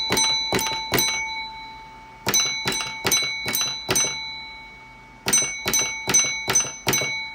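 A railway signal box block bell rings out three groups of five sharp, ringing strokes with pauses between each group, loud and close, every strike decaying into a sustained metallic tone, no speech.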